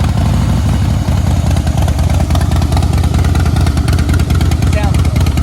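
A 2017 Harley-Davidson Breakout motorcycle engine runs loud and close, a steady heavy rumble with a throbbing low-end pulse that holds throughout without letting up.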